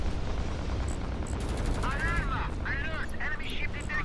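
Spaceship weapons fire in the space combat game Fractured Space, a steady, dense barrage of rumbling, crackling blasts lasting throughout, with warbling sci-fi tones rising and falling over it midway.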